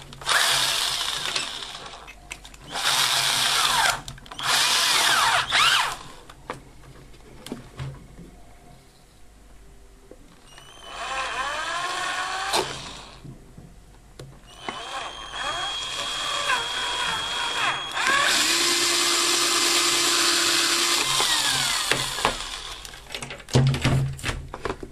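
Power drill boring a hole through a plastic enclosure box for a DIN connector socket, heard in several loud whirring bursts separated by pauses and clatter.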